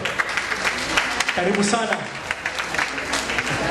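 Crowd applause and cheering fill the room at a Kansas City stage event while a voice speaks over the clapping.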